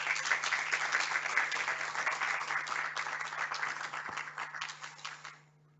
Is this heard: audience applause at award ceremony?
yes